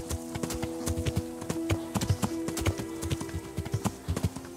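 Horse hooves clip-clop at a steady walking rhythm in the medieval video game Kingdom Come: Deliverance, close and distinct over a faint tonal game background, with no one talking.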